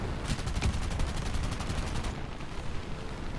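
Machine gun fire from a tank in War Thunder, aimed at an M36 Hellcat: a rapid rhythmic burst of evenly spaced shots for about two seconds, loud and close, then fading into a steady engine rumble.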